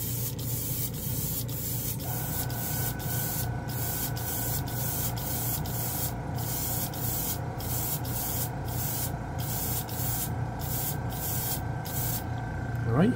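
Tamiya pink primer sprays from a can in steady hissing bursts with brief pauses between passes, close and continuous over a low background hum, with no talking.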